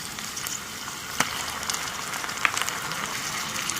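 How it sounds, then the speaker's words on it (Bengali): Rice and lentils poured into a small pan of fried vegetables for khichuri in a mini kitchen set, giving a steady close sizzle with scattered light clicks and crackles throughout. "এবার আমি চালটা আর ডালটা ঢেলে নেব।"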